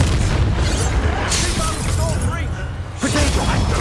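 Confringo blasting spell from Hogwarts Legacy detonating in a fight, a loud booming explosion with crackling debris and a shattering burst, over continuous battle noise and voices talking.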